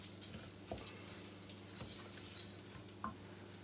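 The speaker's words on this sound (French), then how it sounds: "Et on le nacre avec les oignons dans l'huile d'olive." Rice and onions toasting in olive oil in a pan, giving a faint, steady sizzle with a few soft scraping stirs at irregular moments and no voices.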